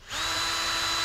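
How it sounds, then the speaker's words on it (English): A power drill spins up and bores steadily into a wooden birdhouse, a loud, continuous whirring grind that starts abruptly and holds level close to the listener. "we'll drill one hole there."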